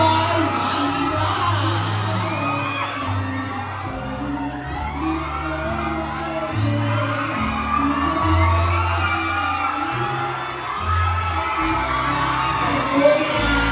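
Dense crowd at a Manila movie premiere cheering, whooping and applauding continuously, with shouts and yells rising and falling over a steady roar throughout.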